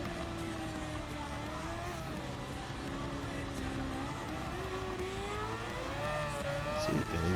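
A race car engine in Gran Turismo 7 at Spa, a steady loud drone that rises and falls in pitch as the car lifts off and gets back on the throttle, running the whole time.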